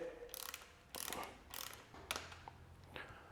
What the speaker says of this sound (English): And we're tightening the top two bolts fully to 6 Newton meters.